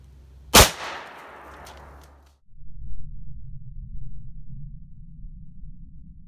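Umarex Zeus .72 caliber big-bore air rifle fired into ballistic gel, giving a single sharp, loud report with a short decay, followed by a low rumbling background.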